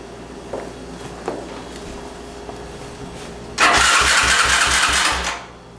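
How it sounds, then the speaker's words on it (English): Kikker 200 motorcycle engine starting up: faint clicks and footsteps at first, then at about 3.6 s the engine catches. It idles loud and close with a steady pulsing rumble for under two seconds, then cuts off. "So the next thing that we did was we were ready to fire up the bike."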